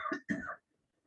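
A lecturer's throat clearing during a Spanish-language academic class, two short rough bursts close to the microphone followed by silence.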